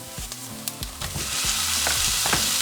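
Ground beef hits a pan of softened onions with a few clatters, and a loud sizzle swells and holds steady. A low tonal hum runs underneath.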